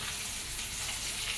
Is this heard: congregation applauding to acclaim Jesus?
no